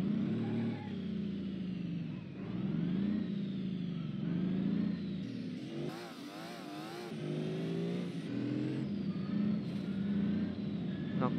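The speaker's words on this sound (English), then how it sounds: "Now let's watch the car crash in real time." In BeamNG.drive, a truck's engine revs and climbs in pitch as it accelerates past 200 km/h, then a harsh crunching burst of impact hits around six seconds before the engine note resumes.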